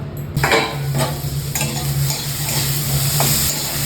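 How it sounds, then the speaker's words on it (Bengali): Potatoes sizzle steadily as they fry in a pan, with a few distinct scraping stirs of a spatula against the pan, all close and alone. "আলুটা ভাজা বসিয়ে দিই"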